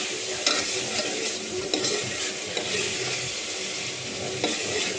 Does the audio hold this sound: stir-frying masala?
yes